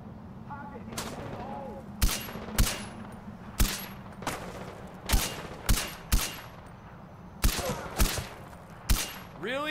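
Enemy gunfire in Far Cry 4 cracks out in sharp, loud single shots and short bursts spaced irregularly across the stretch, some near and hard-edged, over a low rumbling game ambience with occasional faint voice.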